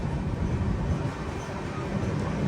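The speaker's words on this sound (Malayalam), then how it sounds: "മഹാസമുന്ദ് റെയിൽവേ സ്റ്റേഷനിലേക്ക് ഇതാ നമ്മുടെ ട്രെയിൻ എത്തിക്കൊണ്ടിരിക്കുകയാണ്" The Samata Express sleeper train pulling into Mahasamund railway station, a loud, dense rumble of wheels and carriages heard from on board, steady and unbroken for a couple of seconds.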